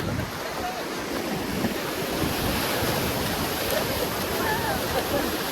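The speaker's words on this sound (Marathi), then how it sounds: "आता मी समुद्रात चाललोय. तुम्ही बघू शकता लाटाला भेटायला चाललोय मी." Sea waves wash in on Kashid beach at Alibag, a continuous broad roar of surf close by, steady and loud with some wind buffeting the microphone throughout.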